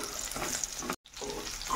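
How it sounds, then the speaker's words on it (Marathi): Chopped onion fries in a pan with curry leaves and chillies for upma, a dense, steady sizzle close by with a very brief dropout in the middle, no one talking. "याच्यामध्ये आपण आता कांदा टाकून घेणार आहोत"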